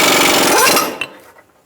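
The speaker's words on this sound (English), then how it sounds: "we have our ball joint tool hooked up. I'm using a socket to make sure I can push that ball joint through" A ball joint press tool, driven with a socket, forcing a lower ball joint out of a 2000-2007 Ford Taurus front suspension: a loud, steady grinding mechanical strain that fades after about a second, ending in a sharp metallic pop and a faint tick.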